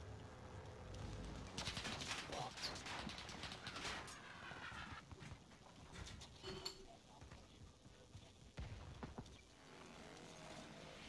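Bursts of gunfire in a first-person shooter game, a cluster of sharp shots early on followed by scattered single reports, fairly faint in the mix.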